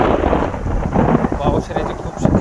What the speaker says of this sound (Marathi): आता विजा पण कडायला लागले. ते आवाज मोठा मोठा येतोय